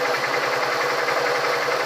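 A Honda Titan 150 motorcycle engine runs steadily at close range, a continuous mid-pitched hum with fast regular ticking pulses and slight knocking texture.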